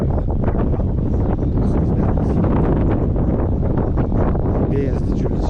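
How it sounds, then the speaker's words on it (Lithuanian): Strong, cold wind blowing outdoors at a roof-rafter building site, a constant loud rushing roar buffeting the microphone from start to finish with no let-up. "Vėjas didžiulis šiandien vėl."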